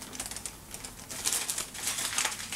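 A plastic bag rustles and crinkles steadily while someone searches inside it for a broken-off tooth from a Grommash Hellscream statue, bursts of crisp crackling continuing close by throughout.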